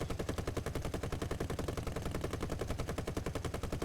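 Steady, rapid machine gun fire from a low tier British plane in a flight combat video game, one unbroken rattling stream at an even rhythm, continuous and fairly loud throughout.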